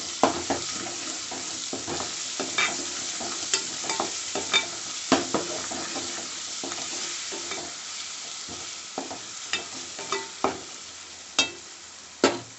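Ginger fries in a pan for a fenugreek leaf and tomato curry, giving a soft, continuous sizzle broken by irregular scrapes and clinks of a spatula as it is stirred.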